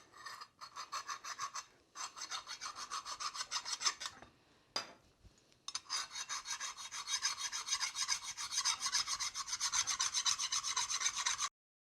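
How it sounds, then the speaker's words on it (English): Fine file rasping across a metal surface of a ZF steering box from a Porsche 356, cleaning off burrs and sharp edges; close, steady back-and-forth strokes in repeated runs, briefly pausing twice, with no talk. "I am gonna just go over it with a really fine file, make sure there's no burrs or sharp edges"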